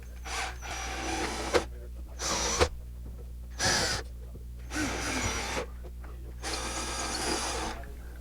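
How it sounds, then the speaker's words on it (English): An electric drill whirs in five separate bursts of varying length, drilling holes in a wall for anchors, with short pauses between, close and fairly loud against a steady low hum. "So first, drill our 4 holes."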